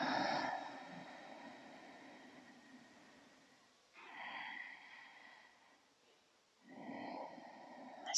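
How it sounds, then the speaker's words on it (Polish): Slow, calm exhalations during a guided morning breathing exercise, three soft airy breaths heard up close and separated by near silence. "I spokojny wydech"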